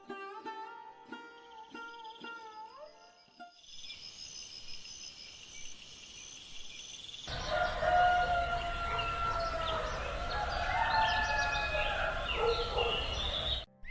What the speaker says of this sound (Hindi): बस पक्षियों की मीठी चहचहाहट वातावरण में गूंज रही थी।